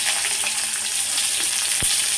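Food frying in hot oil in a pan makes a dense, even sizzle up close, with one sharp knock partway through.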